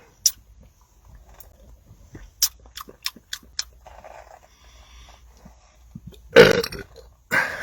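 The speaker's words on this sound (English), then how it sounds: "44 big belches out of one bottle" A string of loud, close belches after gulping Mountain Dew Baja Blast from a bottle, scattered short ones early, then two big rumbling burps near the end.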